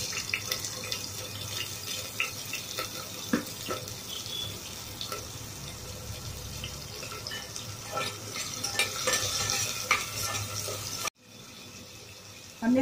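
Steady sizzling and hissing of onion, chilli and garlic frying in hot oil, continuous with occasional stirring clatter, cutting off abruptly near the end.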